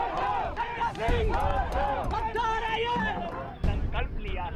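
A large crowd of protesters shouting and chanting together at a protest rally, a loud, dense mass of overlapping voices that keeps going throughout with only brief dips.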